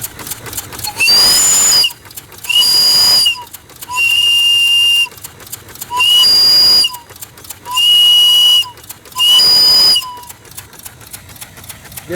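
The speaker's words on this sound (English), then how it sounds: "One last treat, the steam whistle." Steam whistle on a Briggs steam engine sounding in about six loud, long, close blasts separated by short pauses, a shrill steady tone over a faint background hiss.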